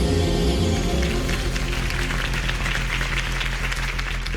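Crowd applause for Harvey Dent's campaign speech in the Batman Telltale Series game, a dense clapping wash building under swelling orchestral music.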